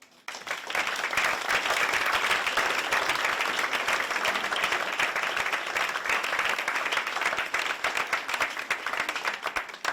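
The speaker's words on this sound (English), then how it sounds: "And both of you deserve a massive round of applause." A large audience applauds at the ceremony announcing the European Capital of Culture 2030, dense sustained clapping filling the room for about ten seconds after a quick start, loud and even throughout.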